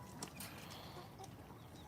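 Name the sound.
chickens clucking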